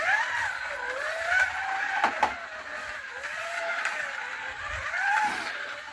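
A Scalextric Mini 1275GT slot car laps a plastic track with a continuous whining electric motor, its pitch rising and falling through the corners, moderately loud and close, with a couple of brief clicks and no speech.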